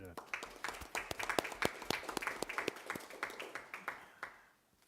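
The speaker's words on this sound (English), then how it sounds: "maybe we have a round of applause for our fire department tonight" A modest round of applause at a town council meeting for the local fire department; scattered, fairly close claps that taper off over a few seconds.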